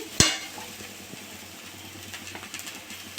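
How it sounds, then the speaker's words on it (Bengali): Veg momo filling stirred with salt and pepper in a pan for dumplings: one sharp scrape of the spoon near the start, then a soft continuous frying hiss with faint light stirring, no talking. "এটা নেড়ে চেড়ে নেবো"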